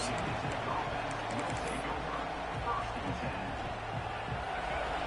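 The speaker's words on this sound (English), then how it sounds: "The roar of the crowd trying to fuel this defense to keep them pinned in their own end." Dense, steady crowd roar filling a college football stadium as Virginia Tech plays Michigan, a broad continuous wash of voices holding at a loud level throughout with no breaks.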